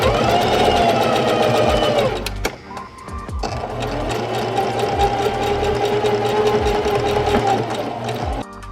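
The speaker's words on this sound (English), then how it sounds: "I'm just like sewing these on here." A sewing machine stitches straps onto an upcycled thrift store outfit, running in a steady close whir, pausing briefly midway with a few clicks before resuming and stopping near the end.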